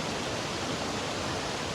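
A creek flows beneath a hammock campsite during a thunderstorm, giving a loud, steady rush of water that fills the whole moment without a break.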